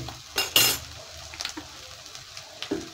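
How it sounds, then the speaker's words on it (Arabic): A spoon stirs food in a pan with olive oil, giving a few sharp metallic scrapes and clinks against a faint background sizzle, spaced irregularly and fairly close. "وهكمل برده تقليب"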